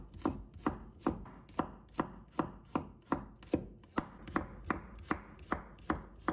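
A knife slices garlic cloves on a cutting board during prep for a cold onion salad, giving about fifteen crisp, evenly spaced chops close up, with no talking.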